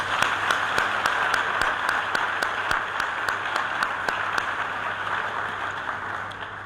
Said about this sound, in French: Donc je finis simplement par ces applaudissements.